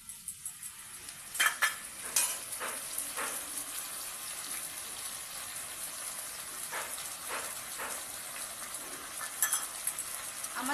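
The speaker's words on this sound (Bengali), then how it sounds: "আমরা পোস্তটা এই যে আলুর মধ্যে দিয়ে কিছুক্ষণ কষবো" Poppy seed paste being sautéed with potatoes in a pan: a steady soft sizzle and hiss with scattered clicks of a spoon scraping and stirring against the pan, fairly quiet, with no voices.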